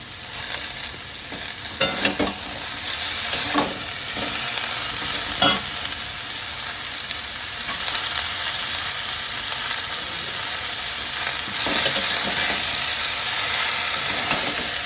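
Spinach stirred and fried with spiced potatoes in a pan, a continuous close sizzle and hiss broken by scraping stirs at irregular intervals, with no voices.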